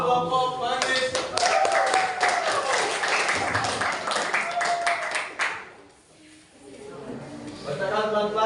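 A classroom group claps for group Manggis during an academic supervision coaching session, a dense burst of applause lasting about five seconds, with voices talking over and after it.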